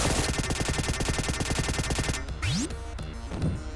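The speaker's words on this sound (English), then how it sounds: "strategy is to just shoot the piranha and get to the end and shoot him again" Rapid-fire shots from the Vectorman video game during the piranha boss fight, a dense rhythmic volley of close game gunfire followed by a rising electronic sweep and scattered effects.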